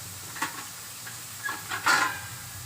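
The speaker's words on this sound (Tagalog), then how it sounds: "Tapos ilagay mo na yung sayote." Chayote stirred in a hot pan gives a soft sizzle with a few scraping stirs and clinks, close and fairly quiet.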